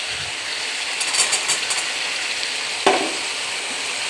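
Vegetables fry steadily in hot oil in a pan, a continuous close sizzle with a brief clatter of stirring near the end and no talking.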